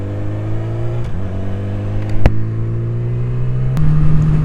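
A four-cylinder motorcycle engine on a ride, smooth and loud up close, holding a steady hum with a couple of brief shifts in pitch and one sharp click partway through.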